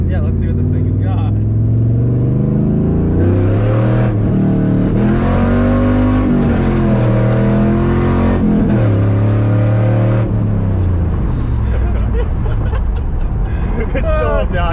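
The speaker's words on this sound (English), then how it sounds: "It sounds like a muscle car." A 1999 Pontiac Trans Am 30th Anniversary edition revs hard and accelerates, its engine note repeatedly rising and falling as gears change. It is loud and close, and people talk over it throughout.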